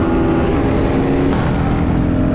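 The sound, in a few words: Lamborghini car engine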